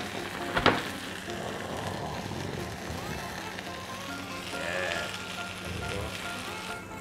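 Oyster omelette rice frying in pork lard with dark soy and sesame oil, giving a steady, fairly loud sizzle throughout, with a brief clatter near the start.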